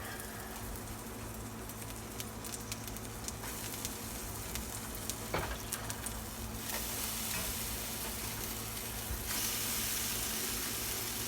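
Banana egg pancakes fry in an oiled pan with a gentle, continuous sizzle and a few soft taps and scrapes, growing slightly louder and hissier toward the end.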